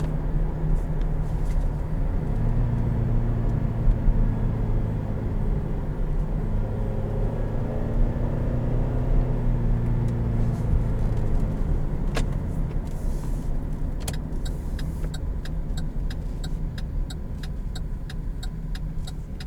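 A 2017 Chevrolet Traverse LT pulls away from a stop in a normal start, its engine rumble rising through steady pitch changes as the transmission shifts. Clicks and knocks follow near the end.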